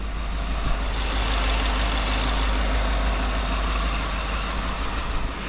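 A Ford F150 XLT pickup engine idles steadily after repair, a smooth, continuous low rumble with an even drone and no voices throughout.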